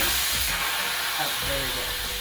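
Steam hisses steadily as pressure is let out of a sealed vessel, a continuous broadband rush with some faint background talk and low rumble underneath.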